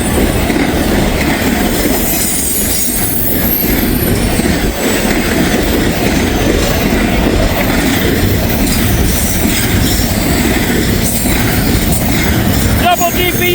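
A long CSX freight train with a double DPU rolls past close by in Kentucky, a loud continuous rumble of wheels with squealing and clickety-clack throughout, with a voice speaking over it.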